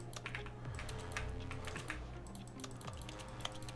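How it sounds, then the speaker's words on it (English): Quick, light keyboard clicks tap out in an irregular typing rhythm under a low humming background, quiet and close. "with the click button, it sounds like you're typing on a keyboard"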